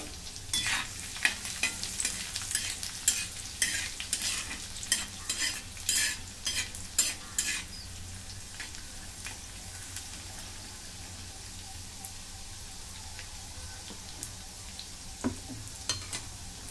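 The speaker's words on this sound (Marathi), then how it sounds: "तर लसूण आधी भाजून घेऊ." Finely chopped garlic sizzles and crackles while roasting in a pan for a crisp green chili thecha, with busy stirring scrapes for the first several seconds, then the frying settles into a quieter steady hiss with occasional pops.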